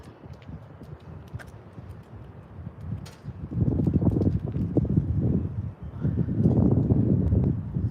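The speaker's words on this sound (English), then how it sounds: "Windy as heck out here" Gusts of wind buffet the microphone in loud, rumbling surges, rising and falling twice, with faint clicks and rustles in between.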